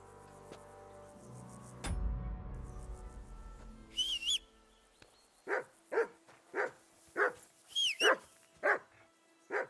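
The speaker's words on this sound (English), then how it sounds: "That barking was a pain in the ass." A dog barks repeatedly in the medieval game Kingdom Come Deliverance II, about seven loud, evenly spaced barks with a whimpering whine between them, after a brief thud and whistling tones.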